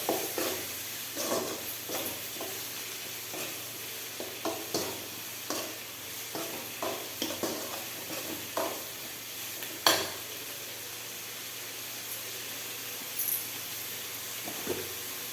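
Tomatoes and onions sizzle in a pan for chicken gravy, a soft continuous fry broken by repeated scrapes and knocks of a spoon stirring, one louder clank midway.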